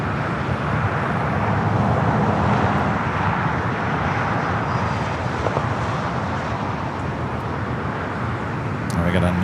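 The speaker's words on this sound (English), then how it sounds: "the Dreamliner coming up from Newark, now going to cross over 25 right" A United Boeing 787 Dreamliner up from Newark rolls across runway 25 Right at Los Angeles International, giving a moderate, even rush of jet engine noise with a faint hum of road traffic underneath.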